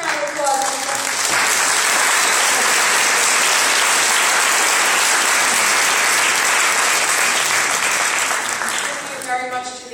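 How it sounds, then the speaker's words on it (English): Sustained, loud applause from an audience at a city conservation advisory council meeting, filling nearly ten seconds with dense clapping and brief voices audible at the start and end as it tapers off. "Just a round of applause."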